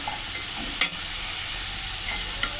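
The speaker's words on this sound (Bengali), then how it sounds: "আলুগুলো ভালো করে ভেজে নেবো আগে।" Potatoes dusted with a little turmeric fry in hot oil in a pan, giving a steady, close sizzle with two brief clacks of stirring, and no voices.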